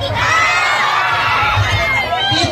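A crowd at a music event cheering and shouting loudly and continuously, with children's high-pitched yells mixed into the din.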